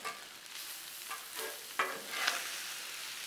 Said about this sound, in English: So let's just all mix it together.